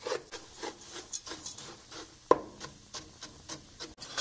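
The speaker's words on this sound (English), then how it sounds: "Don't panic, just keep stirring" A spoon scrapes and stirs melting sugar in a pot for Italian torrone almond brittle, rhythmic rubbing strokes about twice a second with one sharp knock, close and fairly quiet.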